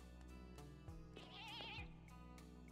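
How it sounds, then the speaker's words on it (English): A sheep bleats once in the video game Ashes Hard Reset, a short wavering cry heard alone over a steady low game music drone. "What the hell was that? A sheep."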